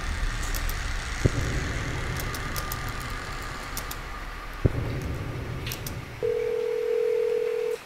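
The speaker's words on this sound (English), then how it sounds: "A melody played over the phone." A phone call in the video game Recall: Empty Wishes, with a steady low hum, two sharp clicks, then a clear sustained tone over the line near the end; there is no talk.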